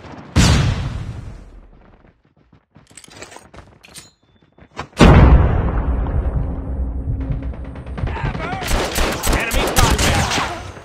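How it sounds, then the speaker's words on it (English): Video game gunfight with a flashbang grenade: a sharp bang, then a loud blast at about five seconds, followed by sustained gunfire and rattling bursts with ringing noise. "Watch out! Flashbang!"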